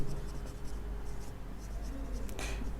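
Numbers being written down by hand during a math lesson, a steady soft scratching of pen or pencil on paper under a constant background hiss, with a brief sharper scrape near the end.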